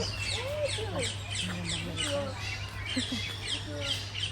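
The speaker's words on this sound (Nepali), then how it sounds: "पछाडिको चराचुरुङ्गी कराएको सुन्दै" A busy mix of birds chirping, tweeting and squawking in quick overlapping calls at Central Zoo in Kathmandu, over a steady low hum.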